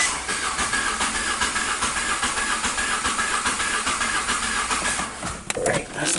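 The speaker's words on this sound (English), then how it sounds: "So I disabled all the other coils, so this vehicle is not supposed to start." A 2016 Nissan Note with its ignition coils disabled cranks steadily without starting, a constant hissing, whirring churn that holds loud for about five seconds, then dips and stutters briefly near the end.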